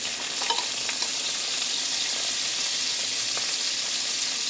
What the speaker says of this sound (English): Now we're gonna go on and add in the shrimp.